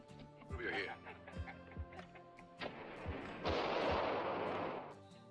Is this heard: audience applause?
no